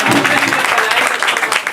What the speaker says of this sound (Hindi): एक बार आप लोग अपने लिए तालियां बजा लें